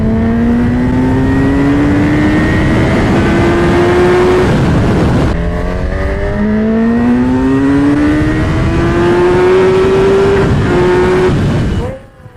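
Honda Hornet 1000 motorcycle engine under way while riding in Naples, loud and close, revving up through the gears with rising pitch sweeps, a brief gear change midway, then cutting off abruptly at the end.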